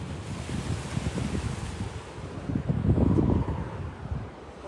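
Sea waves surge and wash steadily where the ocean meets a lagoon, a continuous broadband roar swelling louder midway, with gusty wind buffeting the microphone throughout.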